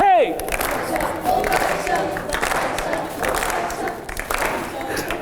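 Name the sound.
audience applause and cheering after a song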